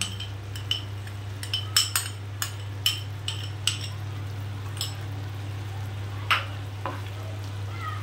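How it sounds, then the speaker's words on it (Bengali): Carrot halwa frying in a pan as milk is added, giving a steady low sizzle broken by a series of sharp spoon clinks and scrapes against the pan, close and moderately loud with no talk. "ঠিক এই দুধটা আমি এই সময় এতে দিয়ে দেবো।"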